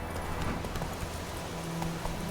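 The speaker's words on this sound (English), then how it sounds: "Obviously a constant in the game because it's Geralt's horse" Geralt's horse Roach clip-clops in The Witcher 3 video game, a quick run of close, distinct hoof knocks over a steady background hiss, with no talking.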